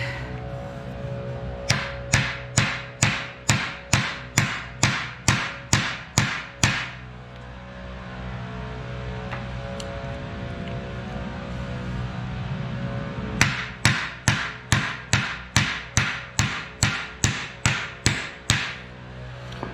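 Metal hammer blows drive spindle bushings out of a 1960s VW Beetle front spindle. Two bursts of rapid, evenly spaced ringing strikes, about a dozen each, are separated by a quieter pause with faint handling noise.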